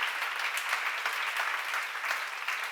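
A church congregation at a seminar applauds, a dense steady clapping from many hands filling the hall throughout.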